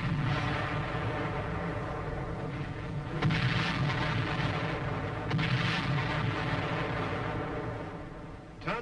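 Artillery fire in Korean War newsreel footage booms in a couple of heavy, distant thuds over a constant rumbling, noisy background.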